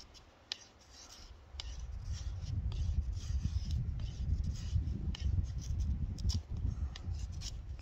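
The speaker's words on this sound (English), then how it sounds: "I'm making some spruce shavings." A Marttiini Explorer knife shaves spruce into feather-stick curls, giving close, quiet scraping and rasping strokes with small clicks, repeated in an uneven rhythm.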